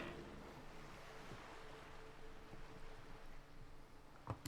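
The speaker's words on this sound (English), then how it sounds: "The wind flaps the sail." Steady wind rushes around a sailboat, a broad, even whoosh mixed with soft water movement that stays fairly quiet throughout, with a brief knock near the end.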